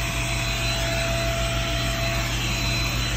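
A vacuum cleaner runs continuously and loudly nearby while cleaning the floor inside a bus, giving a steady roaring whine with no break.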